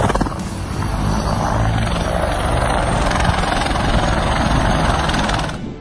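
An aircraft coming in for a rough, badly handled landing, heard as a loud, steady roar of engine and rotor-like noise that fills the whole span with only slight swells and no talk.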